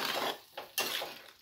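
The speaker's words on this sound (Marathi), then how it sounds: "सगळी भाजी मिक्स करणार मसाल्यामध्ये." Mushroom curry with masala being stirred in a pan: a few scraping, sloshing strokes of a spoon against metal, close and moderately loud, in two or three bursts.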